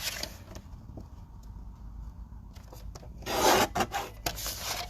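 Thick embossed cardstock being cut into a square, a quiet scraping and rasping with faint ticks, building to a louder, brief rough rasp near the end.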